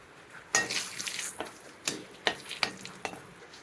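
Cumin seeds and asafoetida fry alongside dried red chillies in oil in a pan for a bitter gourd dish, stirred with a utensil in several scraping strokes and clinks over a soft sizzle, close and moderately loud, with no talking.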